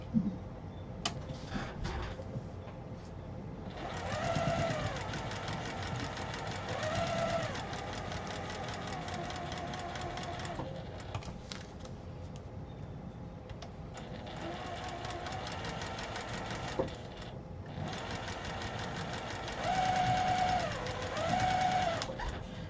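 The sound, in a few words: sewing machine stitching quilt pieces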